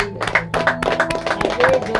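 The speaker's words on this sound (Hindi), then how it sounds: "जोरदार ताली बजाए।" Loud, steady clapping from a church congregation at a Sunday service, with sharp hand strikes running under a sustained musical or vocal tone.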